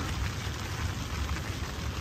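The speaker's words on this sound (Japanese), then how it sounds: "雨も結構降ってきた" Steady rain falls at a campsite during a solo camping trip, a dense continuous patter close by for about two seconds with no voices.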